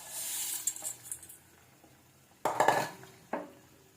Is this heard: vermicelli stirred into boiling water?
yes